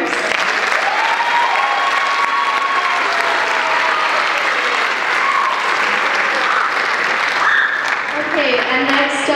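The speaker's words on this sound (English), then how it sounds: "can we give a round of applause for Bill and John for tallying your scores?" Sustained, loud applause from an audience at the Mr. Tooele 2015 pageant fills the room steadily for nine seconds, with a few voices and whoops rising over the clapping near the end.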